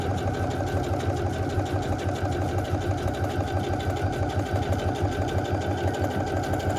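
A domestic sewing machine stitches a fabric money belt, running steadily and close with a fast, even mechanical chatter and motor hum throughout, no talking.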